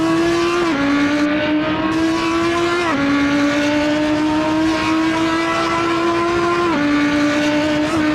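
A Ford Mustang race car in the Assetto Corsa sim racing game drones loudly and steadily at high revs, with a few quick drops in pitch at gear shifts, with no talking.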